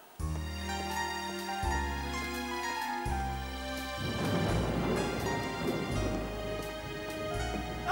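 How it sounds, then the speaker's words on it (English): A cartoon thunderstorm rumbles and crashes under a dramatic musical score, the noise of thunder and rain swelling midway through and continuing to the end. "The boys got scared of the storm"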